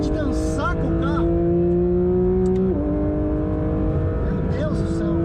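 A Porsche 911 GT3 RS 992 engine holds a loud, steady tone while driving, with one quick drop in pitch midway like a gear change. A voice talks over it at intervals.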